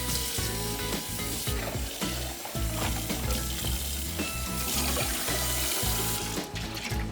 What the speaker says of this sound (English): Now I'm just going to rinse.